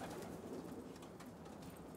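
Pigeons kept by fanciers at the Zaatari refugee camp, heard as a continuous, fairly soft outdoor bird din with cooing and calls across the whole stretch, no voices.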